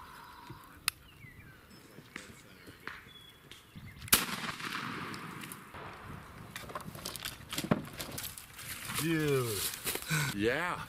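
A single sharp gunshot during a spring turkey hunt in the Missouri woods, a loud blast that cuts through quiet outdoor ambience, followed by rustling and murmured voices.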